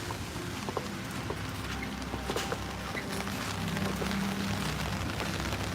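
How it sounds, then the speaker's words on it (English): Steady close patter of typhoon rain drumming on an umbrella in Tokyo, with scattered louder drops and a faint murmur of background activity. "the pitter-patter of the rain on top of the umbrella"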